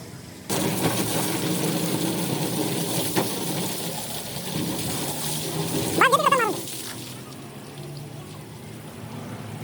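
A vehicle is washed with water, and the hose spray starts abruptly and keeps up a continuous hissing splash, joined by a brief higher-pitched cry partway through before the spray eases off.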